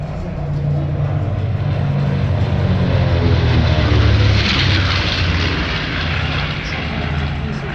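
An airplane drones steadily overhead at the Budapest air race, a continuous loud engine roar that swells slightly in the middle as it passes, heard from a distance in an open outdoor setting.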